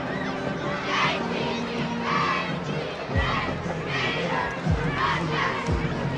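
Crowd noise from a high school football game in a stadium, with a steady roar of many voices, shouts and cheers at a moderate distance and no single clear speaker.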